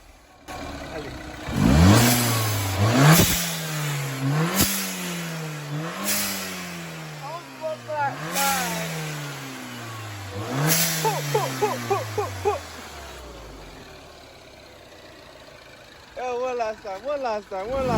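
Mini Cooper S with an aftermarket blow-off valve, revved repeatedly in a series of sharp bursts, each dropping back with a hiss and flutter, heard close with some voices in between.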